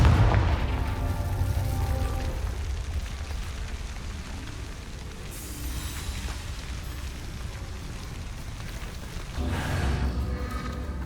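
Confringo spell blasts boom in Hogwarts Legacy, a heavy rumbling burst at the start, a second detonation partway through and another near the end, with crackling rain-like debris filling the gaps.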